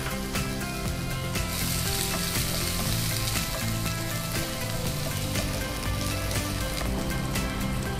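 Onion frying with garlic and ginger in a pan, a steady, dense sizzle and crackle holding loud and even throughout with light stirring scrapes, no voices.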